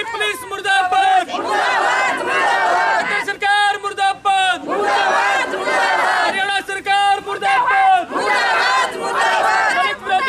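A Dalit community protest against a village sarpanch: a loud crowd chants slogans in unison, rising and falling in repeated waves of shouting voices, close and dense throughout.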